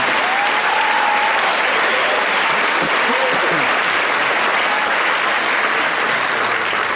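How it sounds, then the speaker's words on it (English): Sustained, loud audience applause for a high school marching band staff fills the whole stretch, a dense steady wash of clapping with some crowd voices mixed in. "How about a nice round of applause for our marching band staff?"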